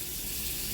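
A spoonful of butter sizzling in a hot pan, a brief steady hiss that is close and even, with no voices.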